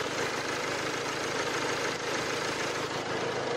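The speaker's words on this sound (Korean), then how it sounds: "엔진 소음 먼저 들려드리면은" A diesel SUV engine idles steadily with the hood open, a continuous even rumble with mild knocking texture and a bright mechanical whir, close and loud with no talk.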